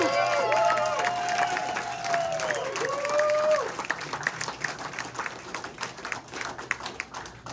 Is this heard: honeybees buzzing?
no